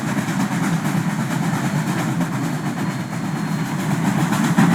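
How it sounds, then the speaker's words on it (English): A train labours uphill over a grade, giving a dense, continuous rumbling chug with rhythmic rail clatter, close and steady throughout with no voices. "Kryssy and Gertrude pulled the special train over Piscataway Hill."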